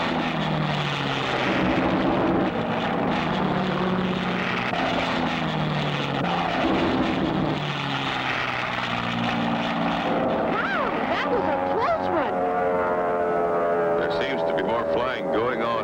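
Propeller airplane in a 1960 cartoon, flying toward and circling a hangar: a loud, continuous engine drone whose pitch shifts as it passes, with people talking over it.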